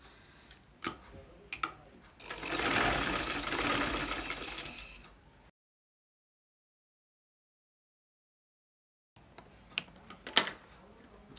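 A sewing machine stitches fabric for a kameez neck placket in one continuous whirring run of about three seconds, with light clicks and handling taps before and after a silent gap.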